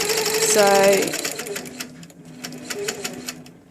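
A longarm quilting machine stitching past the edge of the quilt fabric: a rapid, rhythmic mechanical whirring and needle chatter, close by, while a person talks over it.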